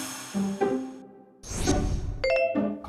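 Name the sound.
striking a rock at Maneosa that rings like a bell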